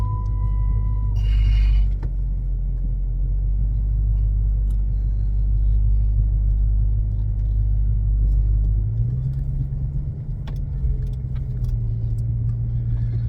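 A car rolls slowly through a gas station in California, its engine rumbling low and steady close by, with a brief clatter early on and the engine note shifting near the end.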